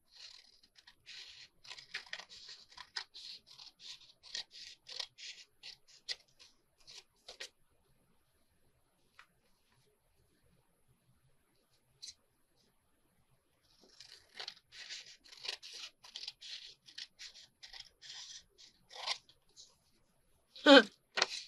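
Scissors cutting paper for an envelope pocket, bursts of crisp snipping and rustling up close, a quiet stretch in the middle, then more cuts and paper handling.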